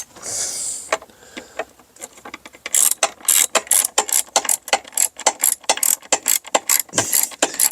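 A ratchet wrench with a socket drives a button-head screw into wood, giving quick runs of sharp, close clicks that come in bursts and pauses across the clip, with no talking.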